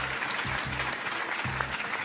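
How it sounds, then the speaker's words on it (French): Studio audience on a French midday TV game show applauds a contestant, loud dense clapping with a few low pulses of music or thumps underneath. "On applaudit Zette et son cri du pamplemousse, merci beaucoup."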